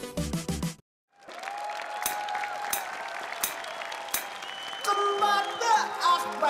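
Audience applause fills most of the passage: a steady, dense wash of clapping that follows a short burst of music and gap, with some tonal sounds riding over it toward the end.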